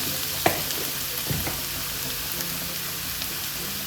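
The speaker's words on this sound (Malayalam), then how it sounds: "നമ്മുടെ സവാള എല്ലാം നല്ല വഴന്ന് വന്നിട്ടുണ്ട്. 1 മിനിറ്റ് ഒന്ന് ഇളക്കി കൊടുത്താൽ മതിയേ" Onions being sautéed for a cabbage masala hiss over medium heat while a spoon stirs them, with a couple of sharper scraping knocks early on against a steady frying sizzle.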